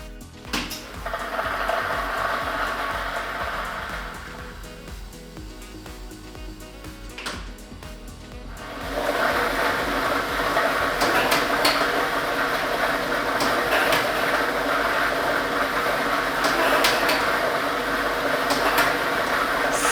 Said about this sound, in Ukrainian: Тиражна комісія до початку гри довільно обрала лототрон, а комплект кульок номер 1 І ми вмикаємо лототрон.